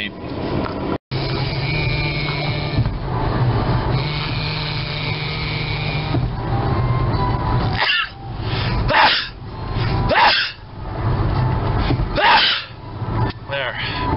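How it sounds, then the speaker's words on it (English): A person sneezes in a car stopped at a red light, with sharp breathy bursts near the end over a steady, loud rumble of engine and road noise. "There, made myself sneeze."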